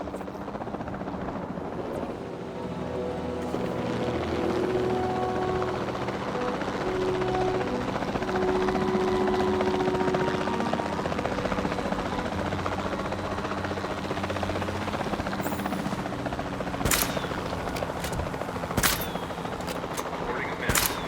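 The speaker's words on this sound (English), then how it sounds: "We'll start by tranquilizing one of the dinosaurs from the helicopter" A helicopter in Jurassic World Evolution 2 drones on steadily and loudly with rotor thrum throughout, joined near the end by sharp bursts of tranquilizer gunfire.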